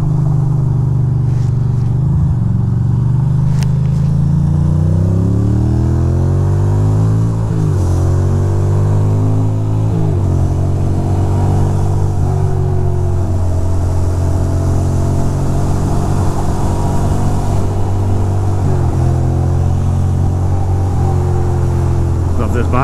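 A Ducati motorcycle riding through Long Island City, Queens, with a loud, steady engine drone whose pitch rises and falls through gear changes. A rider talks over it in places.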